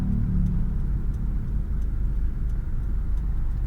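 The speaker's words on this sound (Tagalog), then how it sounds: "aakyat ang isang sasakyan sa isang pataas" A car climbs an uphill slope in first gear, the driver off the pedals with only the clutch released; a steady, loud low engine rumble holds throughout with no talk.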